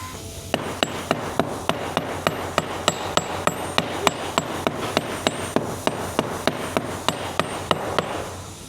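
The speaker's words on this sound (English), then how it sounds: "we're hitting it with a sledgehammer" A sledgehammer strikes cast iron in a fast, even series of about thirty sharp metallic blows with ringing tails, loud and close, with no voices.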